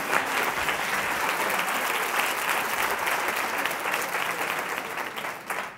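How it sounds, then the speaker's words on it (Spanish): An audience applauds at a talk on teachers' emotional skills and wellbeing, with dense, steady clapping that fills the room and fades slightly at the end. "Un aplauso para ella."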